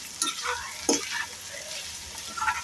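A spoon stirs chili powder into cauliflower frying in a pan, with soft scraping strokes over a steady low sizzle and a few light clinks.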